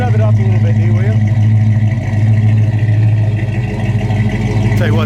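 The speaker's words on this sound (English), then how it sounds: "Go ahead and rev it up a little bit, Dee, will you?" A 1971 Dodge Charger Super Bee with a 340 V8 idles loud and close, with a deep, steady exhaust rumble and a mild swell as it is revved lightly.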